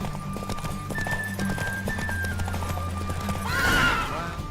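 In a horse race in The Witcher 3 video game, a horse gives a loud whinny near the end, over steady galloping hoofbeats and sustained tonal game sounds.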